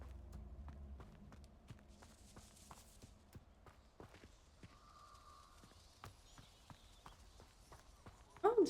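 Centaur hooves clip-clop faintly in Hogwarts Legacy, a soft scattered run of steps within quiet game ambience, ending with a louder burst at the very end.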